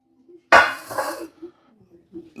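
A heavy-bottomed pan clanks sharply once as it is set down, then rings and rattles faintly with a few smaller knocks, close by, with low voice murmurs in the background.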